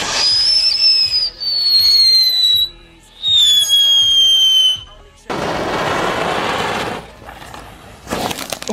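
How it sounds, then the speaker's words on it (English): M45 tank firework, a wheeled ground item emitting flames and sparks at a Fourth of July outing: loud shrieking whistles in repeated bursts with crackling pops, then a long roaring hiss of sparks and a final burst. "These are called M45 tanks. They emit flames and sparks."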